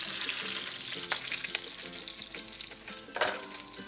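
Arctic char fillet sizzles in butter in a pan with a bright, close frying hiss and occasional louder crackling bursts over a faint low hum.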